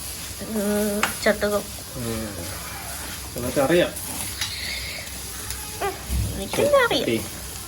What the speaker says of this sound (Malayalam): ഇതൊന്ന് എങ്ങനെ വറുത്തെടുക്കണം ഇതെങ്ങനെ വറുത്തെടുക്കണം ഒന്ന് ബ്രൗൺ കളർ ആവുന്ന ബ്രൗൺ ആവണം